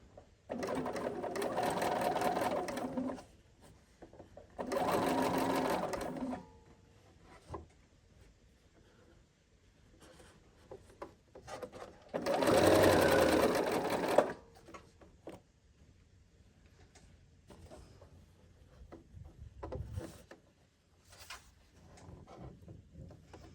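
A domestic sewing machine running long basting stitches set to about six millimetres whirs in three distinct bursts of a few seconds each, separated by quiet handling clicks and faint rustling.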